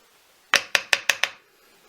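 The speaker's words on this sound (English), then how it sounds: "tap that in with the small hammer" A small hammer tapping a bearing into a Skywatcher NEQ-6 telescope mount, five sharp metallic taps in quick, even succession, close and crisp against a quiet background.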